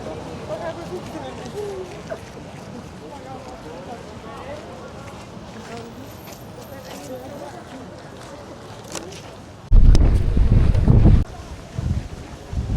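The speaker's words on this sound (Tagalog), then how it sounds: "Malakas ang hangin." Strong wind rumbles against the microphone, building to a loud buffeting gust near the end, over faint background voices, in the Luxembourg park in Paris.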